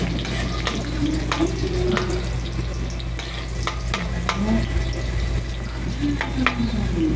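Garlic sizzling in hot oil for a Bicol sinarapan sauté, a steady close frying hiss with occasional stirring clicks and a soft voice in the background.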